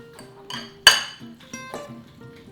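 Salted cucumber salad gets stirred in a bowl, with a few scattered close clinks of utensil against dish, one sharp knock standing out among softer scrapes.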